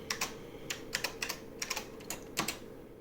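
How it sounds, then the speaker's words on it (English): Keys clatter on an IBM 5150 keyboard as code is typed, a string of close, crisp clicks in short irregular bursts over a faint steady hum. "So if I type in some code here"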